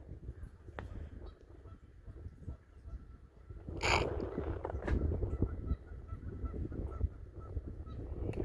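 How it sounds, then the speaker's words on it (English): Geese honk somewhere off in the distance by a riverbank at a fishing spot, faint and intermittent over a steady outdoor background hum. "Hey, I hear geese."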